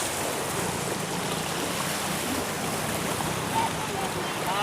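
Floodwater rushes and roars steadily during a flood in Mujuri, Maharajganj. The sound is broad and continuous, with a wind-like hiss, and stays loud and unbroken throughout.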